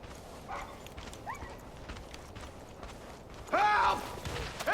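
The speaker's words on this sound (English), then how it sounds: "Somebody's random horse." Horse hooves clip-clop faintly in Far Cry 5 over ambient game noise, with a few light knocking steps and a louder clatter near the end.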